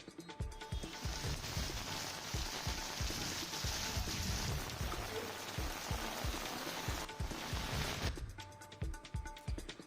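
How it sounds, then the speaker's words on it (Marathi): Heavy morning rain falls in Jejuri, a loud, dense hiss of drops on hard surfaces with rainwater flowing, steady throughout and easing briefly near the end. "जेजुरीत आज सकाळी दमदार पावसानं हजेरी लावली"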